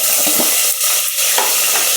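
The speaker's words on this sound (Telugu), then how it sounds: "వేగనిద్దాం. ఉల్లిపాయలు వేగిపోయినాయండి." Onion paste fries and is stirred in hot oil in a clay pot with green chillies, giving a loud, continuous sizzle broken by scraping stirs, with no talking.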